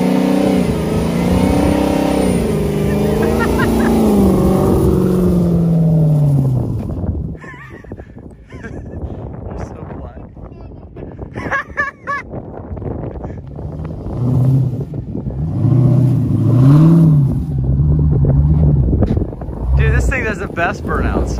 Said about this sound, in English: You gotta do a rolling burnout